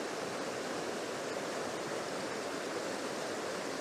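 The River Dart running over boulders in woodland, a constant soft rushing of water with an even hiss and no voices.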